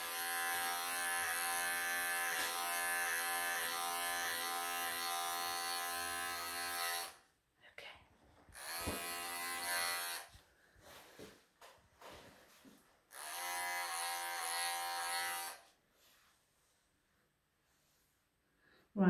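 Electric clippers buzz as they trim the belly of a Persian cat during a full groom, coming in a few close, steady bursts that stop and start again, with quieter handling noise and speech between them.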